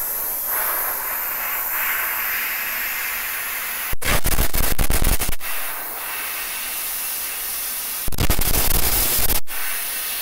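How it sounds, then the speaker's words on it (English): An Eastwood Versatech 60 plasma cutter arc cutting metal, heard as two loud bursts of harsh roaring hiss of about a second and a half each, close up, over a steady background hiss with no talk. "So what I'm gonna do is just go ahead and touch the arc."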